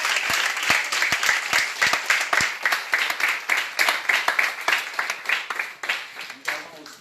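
A church congregation claps steadily in rhythm, a dense room of hands beating a regular pulse, with voices calling out and acclaiming through it.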